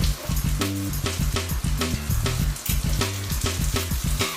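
Lamb chops fry in butter in a pan with a steady close sizzle and crackle, while a loud rhythmic music track plays over it.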